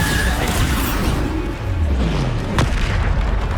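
A Bombarda blast spell going off in Hogwarts Legacy, a dense, rumbling boom that fills the whole clip, with a sharper crack near the end over a steady roar of debris.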